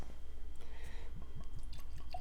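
Forty Creek 2020 Resolve whisky pours from the bottle into a glass in a quick run of soft liquid glugs and drips, close and fairly quiet, with no talking.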